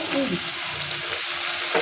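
Jackfruit seeds, pointed gourd and taro stolons sizzle in a pan, a close, continuous frying hiss with a few faint scrapes over the short stretch.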